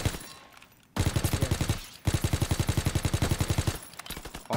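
Rapid automatic gunfire in a Call of Duty WW2 shootout, two long bursts of evenly spaced shots separated by a short gap, loud and close.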